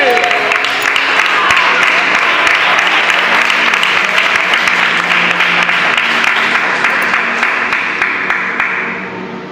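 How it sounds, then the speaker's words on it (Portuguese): A church congregation claps strongly during an evening service, sustained and even applause filling the room before tapering off at the end. "Bate uma salva de palmas bem forte para o Senhor nesta noite"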